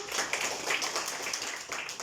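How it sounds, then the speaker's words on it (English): Students in a classroom clap together for a classmate, a dense, continuous patter of many hands lasting a couple of seconds with no speech over it. "Clap for Mariam"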